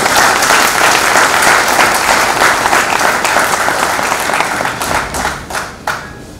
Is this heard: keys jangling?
no